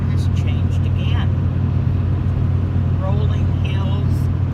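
Car cruising on a highway east of Bakersfield, a constant loud low road rumble and engine drone from inside the cabin, with people talking over it.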